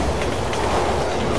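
A moving train rumbles steadily in the video game Resident Evil 6, a loud, unbroken clatter and roar with no voices over it.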